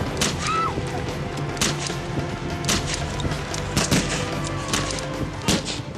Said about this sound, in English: And that's when I hear the gunshots.